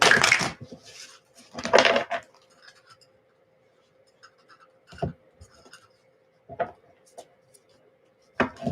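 Tarot cards being shuffled in bursts, with a couple of loud riffling passes early and then softer scattered taps and flicks, close and quiet, over a faint steady hum.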